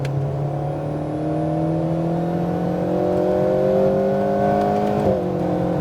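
An Alpine A110R engine revs steadily upward in pitch for several seconds at the Lohéac circuit, loud and close, then briefly dips before continuing.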